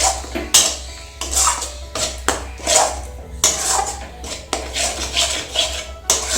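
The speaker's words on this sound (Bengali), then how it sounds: "দিয়ে মশলাটা ভালো করে নেড়ে নিচ্ছি" Spice masala for brinjal siraji is stirred in a pan, with loud rhythmic metal scrapes and clanks in repeated strokes under a low hum.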